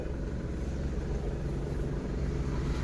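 A vehicle moving along a village road in Lakhanwadi, heard as a steady, close engine and tyre rumble with no voices over it.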